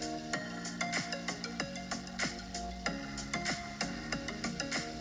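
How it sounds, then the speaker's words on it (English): Onion and peppers frying in oil in a pot, heard as a soft sizzle beneath a steady, rhythmic series of scraping stirring strokes that repeat about twice a second. "I have to fry my onion until it's translucent. Then I go ahead and add my peppers."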